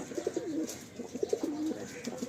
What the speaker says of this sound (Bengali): এগুলো অ্যাডাল্ট পেয়ার মানে পায়রা